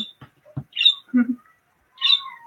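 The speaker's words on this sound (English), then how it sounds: "Please don't mind the birds. They're adorable, not so loving birds, but I'm stuck with them." Pet lovebirds squawk and chirp indoors, loud, close, sharp calls coming in short bursts with brief pauses between them.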